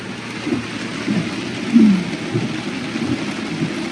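Heavy rain drums steadily on a moving vehicle during a road trip from Padang to Bukittinggi, a dense continuous hiss with low rumbling swells of thunder underneath and no voices.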